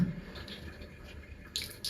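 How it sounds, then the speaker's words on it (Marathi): Water drips from hand-wrung laundry, a few soft, faint, wet drips and squishes against a quiet background. "पाणी एवढं कसं पिळलंय तुम्ही?"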